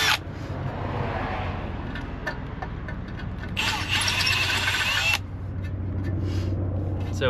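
Drilling a hole with a 1/4 inch drill bit during an AC install on an LS-swapped S10, a close steady motor whine with a louder, harsher burst of cutting in the middle.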